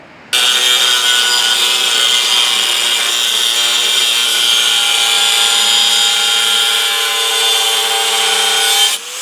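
A power saw cuts metal pieces for a trailer winch mount. It makes one loud, continuous, steady whine that starts abruptly and stops near the end, with no talking.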